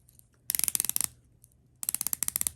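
Watch bezel cranked by hand, two quick bursts of crisp, fast, evenly spaced ratcheting clicks, close and distinct with a short pause between them in an otherwise quiet room.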